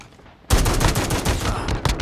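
After a quiet half second, loud sustained automatic gunfire from Call of Duty Mobile erupts at close range, firing in a rapid continuous burst with a few sharper shots near the end.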